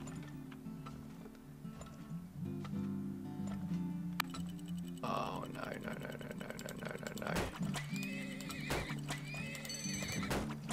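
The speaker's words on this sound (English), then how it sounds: "Let's get some more horses down." Horses whinny and hooves clip-clop amid busy effects in the strategy game Turmoil, with ticking and faint music, and a voice talking over it.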